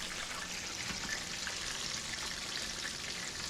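Chicken pan-fries in hot oil with a constant, bright sizzle and crackle. The sound is steady and fairly close, with no voices.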